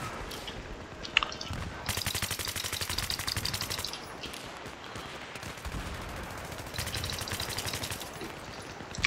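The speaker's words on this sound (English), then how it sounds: "you might save bullets by using it as burst fire like" A suppressed MG36 light machine gun in Battlefield 3 fires in burst mode, a handful of rapid clattering volleys of quiet shots spaced across a noisy game backdrop, fairly faint and without talk.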